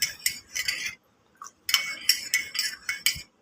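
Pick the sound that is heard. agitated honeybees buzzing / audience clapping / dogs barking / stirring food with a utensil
stirring food with a utensil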